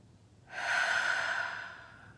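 A single long, soft exhale of breath during a guided breathing meditation, a steady airy whoosh that swells and then fades over about a second and a half, alone and close.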